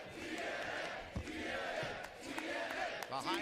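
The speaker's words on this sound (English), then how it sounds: "Listen to the TNA chants as well. The crowd sounds very happy." A large wrestling crowd at the TNA Hard To Kill 2024 event chants in unison, a dense, steady roar of many voices filling the arena throughout, with a few sharper bursts of noise near the end.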